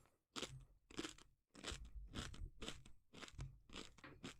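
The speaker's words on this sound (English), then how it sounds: "Time for me to crunch chips in your ears" Potato chips are crunched close to the microphone, giving a quick run of crisp, brittle bites and chewing crackles that keep going almost without a break, loud and alone.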